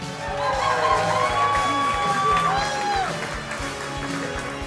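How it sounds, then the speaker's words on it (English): Guests at a wedding reception clap and cheer as a groomsman of the wedding party is introduced, with crowd noise, whoops and whistles over music and voices in the room. "Give a big round of applause."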